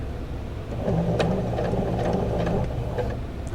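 A sewing machine runs a basting stitch along pleats, its motor whirring with a fast, even mechanical chatter for a couple of seconds, close and moderately loud.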